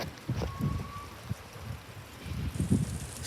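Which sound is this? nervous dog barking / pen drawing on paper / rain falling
rain falling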